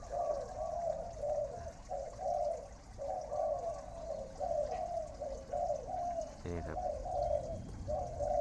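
Soft, rhythmic zebra dove cooing repeats steadily in short trilling phrases over a low background hum, with a brief clatter near the end.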